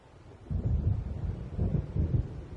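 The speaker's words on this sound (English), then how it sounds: "It seems there's a storm coming." Low rumbling thunder rolls in from a gathering storm in the Alan Wake video game, swelling in a few heavy, drawn-out waves with no other sound around it.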